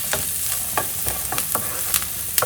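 Garlic and a bay leaf fry with onions in a pan, giving a constant bright sizzle broken by frequent sharp scrapes and taps of a utensil stirring close by.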